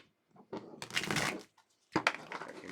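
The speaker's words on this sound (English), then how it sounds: "Giving everybody just quick shuffles in the beginning." Tarot cards are shuffled in two quick bursts of riffling, close and crisp, separated by a short pause, each burst a dense papery flutter that stops abruptly.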